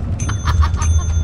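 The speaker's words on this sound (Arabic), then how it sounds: "اضغط الجرس اكثر من مره" A bell in the video game Lethal Company rings several times in quick succession, loud, bright and close, with no talking.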